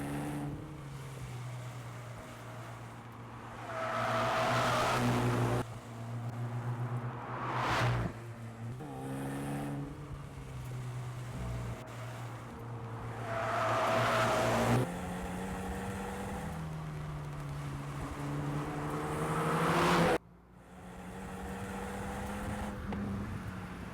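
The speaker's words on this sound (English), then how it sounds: "here's just a little teaser reel of the Veloster zooming around and doing stuff" A 2019 Hyundai Veloster N drives hard on track and autocross runs, its engine revving up and down through repeated accelerations and gear changes, loud and close, with abrupt cuts between passes.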